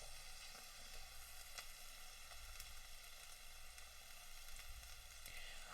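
Burger patties frying on a hot surface, giving a steady, quiet sizzle with faint crackle over a low background hum, no voices.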